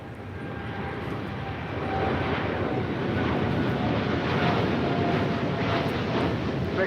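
A Boeing 787-8 Dreamliner, American Airlines bound for Miami, takes off from LAX with a steady broadband engine roar that swells slightly and holds loud throughout, with some wind noise on the microphone.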